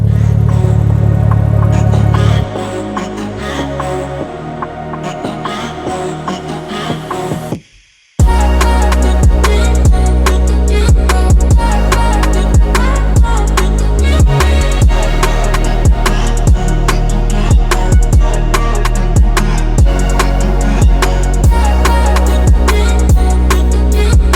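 A deep, loud exhaust on a Toyota Supra with a B58 engine rumbles and revs repeatedly, with a brief cutoff into silence before the engine roars back, barking through sharp throttle blips.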